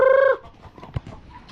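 A Darag native chicken on a Philippine farm lets out one short, loud, harmonic crowing call up close, followed by a second of quiet rustling.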